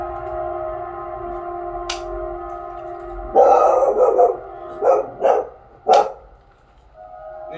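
A dog barks in a few loud, close bursts, roughly five sharp barks in quick clusters, over a steady droning background tone.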